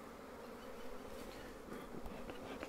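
Honey bees buzzing around a Flow Hive during a brood inspection, a soft continuous hum with a few individual insects passing close by, faint and steady with no voices.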